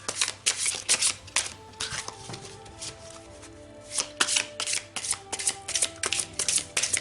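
Tarot cards of the Nicoletta Socoli deck being shuffled by hand, a steady series of close, crisp riffling bursts with brief pauses, faint tonal hum underneath and no talking.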